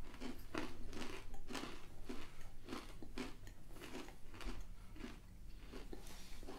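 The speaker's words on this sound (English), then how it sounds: "I can see myself munching on these all day." Someone munches a crunchy snack mix from a Graze snack box, giving a close, quiet, steady run of rhythmic crunching bites with no talk.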